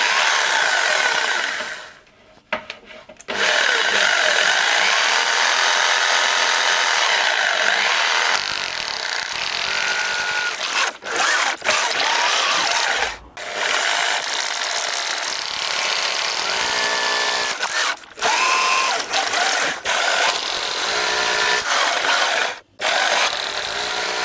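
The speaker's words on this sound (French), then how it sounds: "cette fois, je vais percer en plus fin" Power drill boring small pilot holes into a wall while fitting a kitchen range hood and its duct casing, a loud continuous whine in several long bursts separated by short pauses, with no talk.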